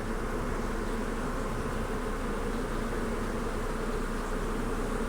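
Honeybees buzz steadily around an open hive during a queen release and split, a dense, loud, continuous drone that holds unchanged throughout with no voices.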